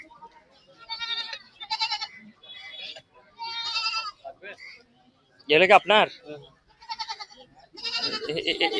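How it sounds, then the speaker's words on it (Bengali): Goats at a busy hill-country livestock market bleat loudly and close by, several wavering cries in separate bursts between pauses, with people talking nearby. "এই দেখেন সুন্দর সুন্দর ছাগল।"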